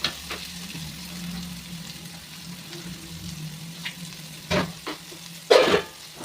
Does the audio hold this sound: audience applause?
no